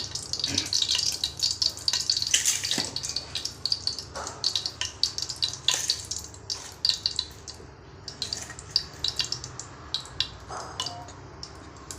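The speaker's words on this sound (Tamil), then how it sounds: "நம்ம எண்ணெய் ஊற்றியாச்சு. ஓகேவா? எண்ணெய் நல்லா காயட்டும்" Cooking oil heating in a pan on a home stove, giving a soft, steady crackle and sizzle with scattered sharp pops, close and fairly quiet.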